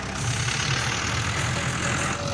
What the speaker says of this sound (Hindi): ट्रैक्टर के साथ रूटा लग रहा है।